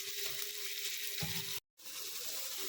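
Tomatoes and salt fry with onions in a pan for chicken curry, making a dense, continuous hissing sizzle up close that drops out for a brief moment before resuming.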